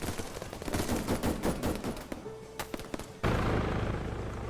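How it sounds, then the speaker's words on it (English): Gunfire in the military shooter Arma 3 during a Zeus co-op operation: dense bursts of rifle and machine-gun shots, some distant, then a sharp loud report and a sustained roar of firing. "I've just heard more gunfire coming in"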